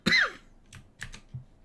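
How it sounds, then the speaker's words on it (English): One sharp cough, then a few softer, brief coughs and throat noises spaced out across a quiet background. "Oh, the coughs."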